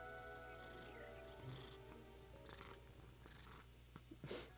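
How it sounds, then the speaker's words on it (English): A soft, steady cat purr rumbles low and close throughout, with a few small rustles and a brief louder burst near the end. "Can you hear him purring?"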